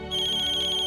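A phone ringtone sounds, a steady, bright electronic ringing tone that is close and loud and plays alone for about a second.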